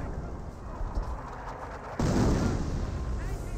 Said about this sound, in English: Which now seems artillery fire as well